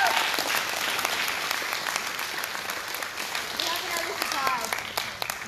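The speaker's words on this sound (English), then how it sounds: "Y'all give them a hand clap." A church congregation claps in a steady roomful of applause, with voices and cheers mixed in and a few louder close claps standing out near the end.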